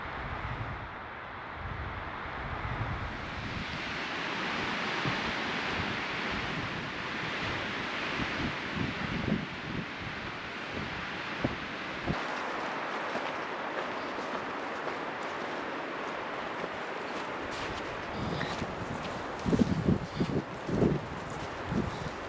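Strong wind whipping across a high plateau in the Gila Wilderness of New Mexico, a continuous rushing roar with gusts buffeting the microphone and swelling louder toward the end.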